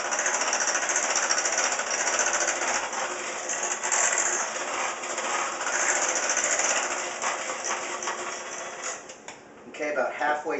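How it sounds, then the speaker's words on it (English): An electric mixer whirs loudly and continuously through banana bread batter in a home kitchen, a steady high buzzing motor with scraping rattles, cutting off near the end as a voice begins speaking. "when you start your mixer"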